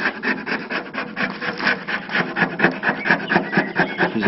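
A scraper rasps glue residue off the body of a VW T25 van in quick, rhythmic strokes, about four per second, steady and close, with no voices.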